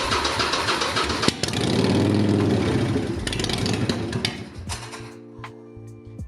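A broken Harley-Davidson motorcycle low on gas being cranked, the engine turning over and catching in rough, uneven bursts of rumble before sputtering down to a faint low idle hum.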